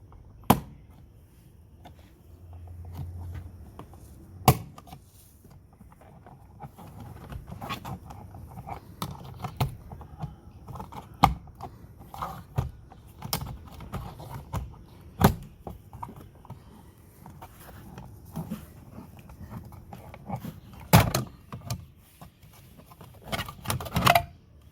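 Plastic clips on a Toyota Aqua (Prius C) door panel pop open by hand as a scattered series of sharp, faint clicks and snaps over quiet handling noise.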